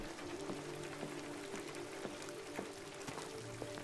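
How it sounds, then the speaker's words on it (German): Rain in the video game Detroit: Become Human, a faint, steady patter and hiss of falling rain with soft droplet ticks and a low tonal hum underneath, with no talk. "Es regnet schon wieder."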